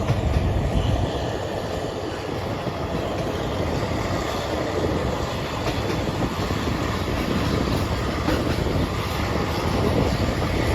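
A passenger train rumbles steadily past at close range on the Pha Sadet–Hin Lap line in Thailand, a dense continuous roar of wheels on rails with faint clattering running throughout.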